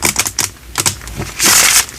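Oversized tarot cards are shuffled by hand in a quiet ASMR setting, giving close, crisp bursts of card clatter and flicks in an uneven rhythm, ending in a longer riffling swish.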